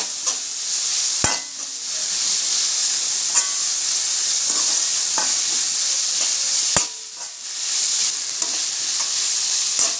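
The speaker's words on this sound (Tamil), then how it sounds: "வெங்காயம் வதங்கிறதுக்காக நம்ம வந்து கொஞ்சமாக உப்பு போட்டுக்கலாம் வெங்காயம் நல்லா வதக்க விட்டுடலாம்" Onions sautéing with salt in a pan for egg curry, a loud steady sizzle with a couple of sharp utensil knocks and intermittent stirring scrapes, close with brief dips in the hiss.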